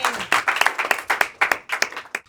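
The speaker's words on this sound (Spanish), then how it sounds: "Los recibimos a ellos por una aplauso." A church audience applauds as a married couple is welcomed to the stage: a burst of brisk, overlapping hand claps that rises and fades in uneven waves over a couple of seconds.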